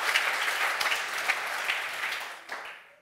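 Steady applause from a studio audience at a German sports talk show, dense and continuous before it thins out and fades toward the end.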